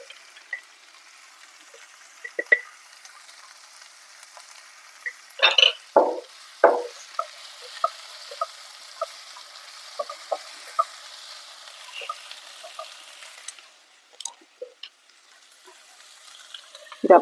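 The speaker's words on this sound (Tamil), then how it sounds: "தக்காளி சாஃப்ட் ஆகுற வரைக்கும் நல்லா வதக்கிக்கோங்க" Tomatoes softening in a pan of ginger-garlic masala while being stirred, with soft scraping and tapping of a spoon, a couple of louder clatters, and a faint steady hiss of cooking underneath.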